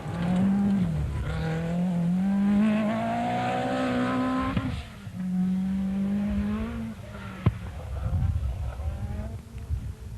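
A Lancia Delta S4 rally car races at the 1986 Acropolis Rally, its engine holding a steady, loud drone that rises slowly in pitch, dips briefly, then climbs again, with a sharp click near the end.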